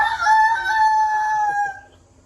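A rooster crows once, a loud, clear, drawn-out call close by that fades at the end.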